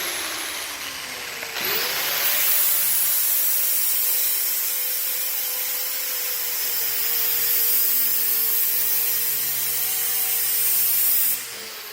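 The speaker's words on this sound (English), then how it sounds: "So by simply turning that grinder, the sparks are going to change direction." A handheld angle grinder bites into metal with a sudden hiss and then holds a steady, loud, bright scraping whine for about ten seconds before cutting off, with no voices.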